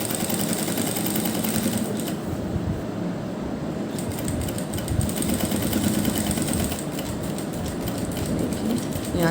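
Sewing machine stitching along the edges of a butterfly-style neckline with piping, a steady continuous mechanical whir with rapid rhythmic clatter running throughout at moderate, close level.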